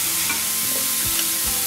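Chopped beetroot stir-frying in a pan for a Tamil-style beetroot poriyal, giving a steady, close sizzle with scraping stirs, and no voices.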